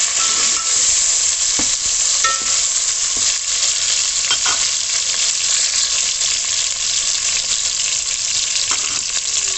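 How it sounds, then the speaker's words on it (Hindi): Chopped tomatoes sizzle loudly in a pan while being stirred for chicken pulao, a steady close frying hiss broken by scraping of the spoon, with no talk. "टमाटरों को भूनूंगी 2 से 3 मिनट के लिए।"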